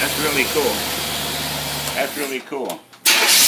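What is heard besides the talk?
Predator small engine with carburetor starting up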